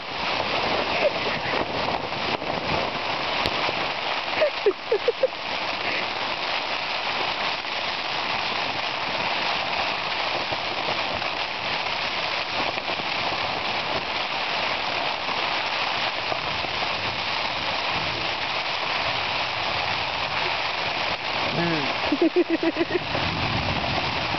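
Heavy rain pounds steadily on a tent close by with gusting wind, a dense unbroken roar, and occasional voices heard beneath it.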